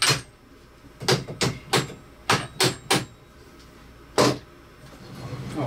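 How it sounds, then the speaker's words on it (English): Sharp taps of a hammer against a 3D-printed PLA part on a Lowrider II CNC build, knocking it loose: a quick run of six distinct knocks, a pause, then one more, close and crisp over quiet room tone. "Why don't we just tap this side out just a little bit? See if that loosens that up."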